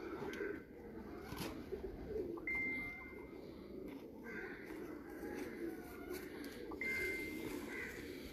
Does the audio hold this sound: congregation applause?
no